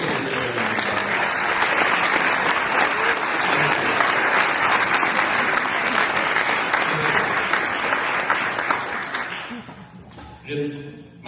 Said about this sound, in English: I think you all deserve a good round of applause